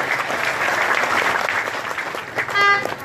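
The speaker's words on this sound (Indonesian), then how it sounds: "Tepuk tangan untuk beras sembai." Audience at an Indonesian political rally in Nagekeo claps steadily in a dense, sustained round of applause, with a brief tonal beep near the end.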